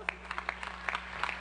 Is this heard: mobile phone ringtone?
no